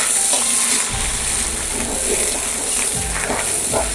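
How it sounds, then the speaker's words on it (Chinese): Pork belly and cabbage stalks sizzling and being stir-fried in a wok for a northeastern Chinese rural banquet stew, with steady close frying hiss and occasional spatula scrapes and clatters. "先把白菜帮煸炒一会儿"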